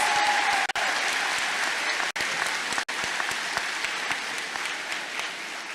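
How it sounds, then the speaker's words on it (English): An audience applauds at an 8th grade promotion ceremony, a sustained, dense wash of many hands clapping that continues evenly throughout, heard from within the crowd with no talking. "Can we please give another round of applause to all of the recipients?"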